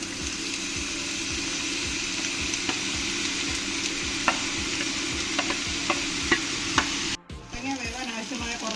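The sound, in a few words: cut pumpkin added to a pan with fried spices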